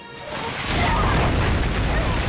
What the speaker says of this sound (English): Oh, I guess that explosion did it.